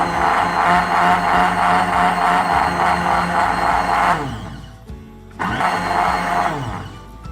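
Blender whirring through a black chickpea kabab mixture with lemon juice, a loud steady motor roar with rhythmic chopping pulses that cuts out briefly, then starts up again near the end.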